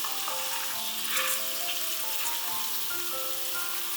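Salmon belly pieces in sauce reducing over low heat in a flat frying pan give a soft, even sizzle and bubbling that runs throughout under light background music.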